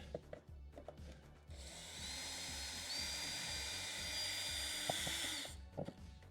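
Small power tool whirring steadily while it backs out a large bolt holding a DeLorean's license plate, a sustained whine with faint clicks around it and no talk.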